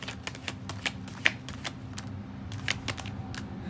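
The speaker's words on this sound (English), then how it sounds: "let's get some tarot cards now, and we're just gonna see kind of which ones we get, where they land" Tarot cards being shuffled and laid out produce a close, irregular run of light papery taps, flicks and snaps, some sharper than others, over a quiet room.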